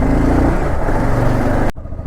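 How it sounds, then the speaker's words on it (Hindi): Motorbike engine warming up before a ride, a loud continuous rumbling drone held close for most of the clip before cutting off sharply near the end. "पहले इसको वार्म अप कर लें, हल्का सा वार्म अप, और बाइक चलने को तैयार"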